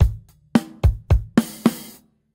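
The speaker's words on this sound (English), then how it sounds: "every so often there is an extra snare drum added on the beat 4" Six sharp drum hits across about two seconds, low kick thumps and a couple of snare cracks near the end that ring with bright wash, played alone in a rock beat.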